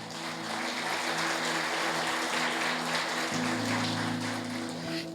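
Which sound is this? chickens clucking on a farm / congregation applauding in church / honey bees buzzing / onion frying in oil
congregation applauding in church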